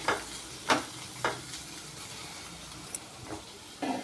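Cashews frying in a pan for a paneer curry, a quiet background sizzle broken by several sharp spoon scrapes and knocks at irregular intervals.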